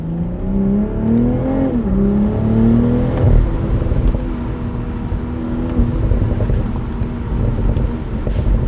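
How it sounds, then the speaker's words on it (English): A 2023 BMW Z4 M40i on a road trip, its engine rising and falling through revs with a shifting drone, then settling into a steady rumble mixed with wind noise, with no talking. "You can kind of trick it into doing more pops and burbles if you just kind of feather the throttle on down rev"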